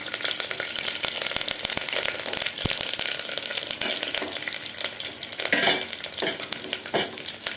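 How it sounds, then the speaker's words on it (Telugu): Green chillies, curry leaves and tempering spices frying in hot oil, a steady loud sizzle with crackles and the scrape of a stirring spoon throughout, no talking. "నూనె పోసి పోపిత్తలు వేసి పచ్చిమిరపకాయలు వేసిన, కళ్యామాకు వేసాను"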